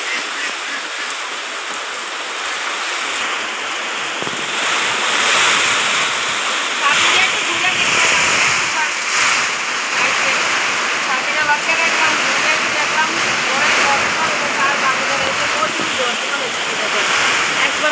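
Heavy rain from a violent storm pours down in a steady, loud, broadband roar, like water rushing over a surface, continuous and close with no voices.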